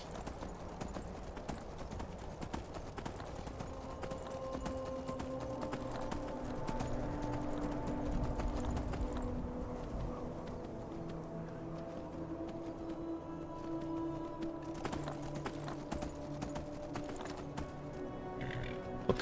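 Horse hooves clip-clopping steadily in the video game Skyrim, continuous rhythmic footfalls of a ridden horse over a bed of game ambience and music.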